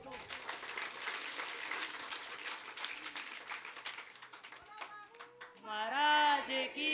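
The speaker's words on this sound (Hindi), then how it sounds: "ताली ठोक दो।" Audience clapping at a Hindu devotional gathering, a sustained burst of applause under a presenter's amplified voice, with a chanting voice rising loud near the end.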